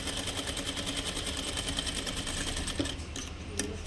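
A sewing machine stitches thread piping onto saree fabric, running in a steady fast rhythmic chatter that stays close and even, then eases near the end with a couple of brief mechanical clicks.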